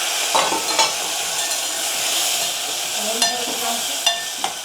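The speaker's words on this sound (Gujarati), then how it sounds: "ફાઇનલી તો આપણે મિક્સ કરી દઈએ" Tomatoes being stirred in a hot pan for a street-style paper dosa topping, with a steady sizzle under sharp spoon scrapes and knocks against the pan at irregular intervals.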